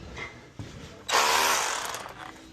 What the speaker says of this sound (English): I drilled a pilot hole through the foundation